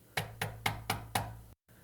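Five firm, evenly spaced knocks on the front door of an orphanage, close and crisp, followed by a brief silence.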